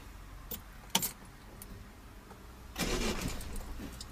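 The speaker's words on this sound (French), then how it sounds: "Puis je te laisse redémarrer le moteur." A car engine is restarted after a driving-lesson stall: a few small clicks and jangles, then the engine cranks and catches near the end, a broad loud burst that settles into a running rumble.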